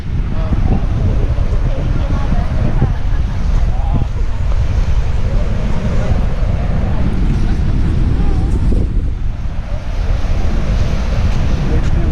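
Steady, loud roar of rushing water at Niagara Falls, Ontario, Canada, in winter with ice around, filling the whole stretch, with a rough, windy edge and no break.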